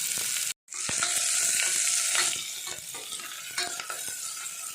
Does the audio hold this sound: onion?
yes